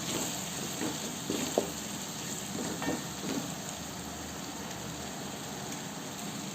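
Tomatoes with turmeric and spices stirred and frying in a pan for a Tamil fish gravy, a soft steady sizzle with a few faint scrapes of stirring, no talking.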